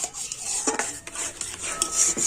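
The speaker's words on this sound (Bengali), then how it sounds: "এই দুধটা কিন্তু সুরির সাথে খুব ভালোভাবে নাড়াচাড়া করে নেব" A spoon stirs milk and semolina in a pan, scraping and knocking against the metal in an irregular rhythm, close and fairly quiet, with no talking.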